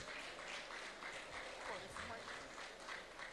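Audience applause at a Nigerian economic lecture event, a steady wash of clapping from a crowd that stays even throughout, fairly faint and distant.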